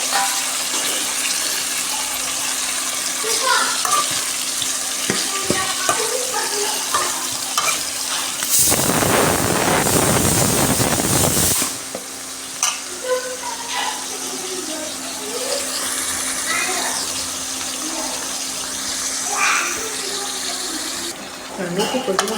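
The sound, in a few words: chicken pieces frying and being stirred in a pan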